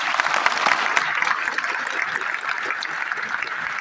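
Audience at a coaching institution in Patna claps for students who came to speak, a lively burst of many hands that peaks early and then tapers into lighter, scattered clapping, fairly close and without speech.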